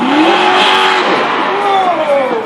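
Monster truck engine revving and roaring loudly at a 2013 monster truck show in Wauchope, with the pitch sweeping up and down as the truck drives, close and continuous.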